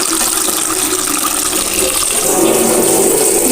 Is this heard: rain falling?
no